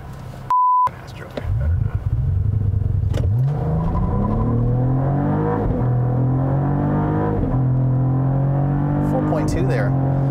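2022 Cadillac CT4-V Blackwing manual sport sedan launches after a short beep, engine revving hard and climbing through rising gear pulls with clear shift breaks, loud and close from inside the cabin.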